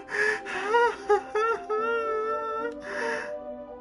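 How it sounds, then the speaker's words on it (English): A sharp breathing inhale in the video game DDLC Plus, a gasping, strained intake with a whimpering, moaning tone, close and alone for several seconds. "It sounds like breathing."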